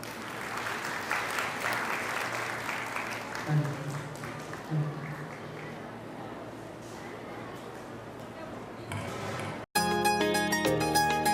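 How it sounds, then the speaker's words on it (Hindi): An audience at a Nirankari children's samagam in Nagaur claps in a sustained round of applause, steady and full for several seconds, with a voice over it; the clapping then gives way to music that starts abruptly near the end. "सारी साथ संगत उनका जोरदार तालियों से उत्साह बढ़ाएं।"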